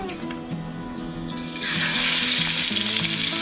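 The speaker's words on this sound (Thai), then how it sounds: "นำพริกแกงนะครับมาผัดกับน้ำมันนะครับ ผัดไฟอ่อนๆ" Thai phanaeng curry paste frying in oil over low heat in a field kitchen: a steady sizzle that swells louder partway through, with low tonal music underneath.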